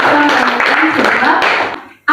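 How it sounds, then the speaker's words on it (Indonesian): Students applauding a classmate in a classroom, a dense, steady wash of many hands clapping at close range that fades out near the end, with a voice briefly over it. "Jadi kasih aplaus dulu untuk Susinta."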